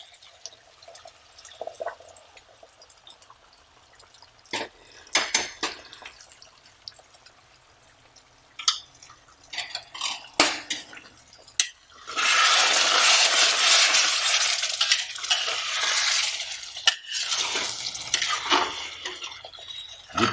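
Boiled water from a separate bowl poured into a pot of Punjabi chicken curry, starting with scattered drips and stirring clatter, then a loud, steady splashing pour for several seconds that tapers off near the end.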